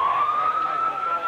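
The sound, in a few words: siren signalling the start of trading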